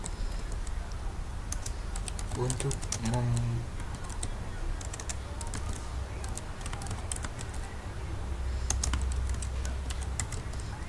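Steady rapid clicking of computer keyboard keys from shortcut presses while working in Photoshop, close and continuous, with someone speaking briefly over the typing.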